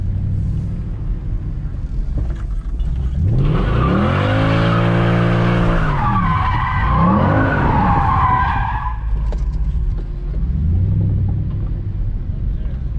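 Tires of a bagged Mercedes C63 AMG squealing and skidding in a burnout, a loud, sustained screech over a deep engine rumble that swells and fades, with people talking in the car.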